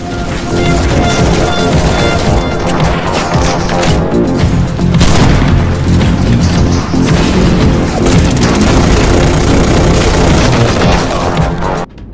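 Loud, continuous barrage of booms and crashing gunfire from a VR arcade shooter game, dense and chaotic throughout with no pauses, like intense game combat.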